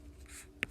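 Pen or marker writing by hand during a math lesson, a soft brief scratch ending in a sharp little tap, faint and close with no talk over it.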